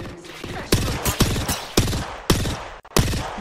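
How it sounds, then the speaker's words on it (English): Repeated gunshots ring out in a firefight in the Apex Legends video game, roughly seven sharp, loud cracks at irregular intervals over a steady background of game ambience. "Someone's shooting at me"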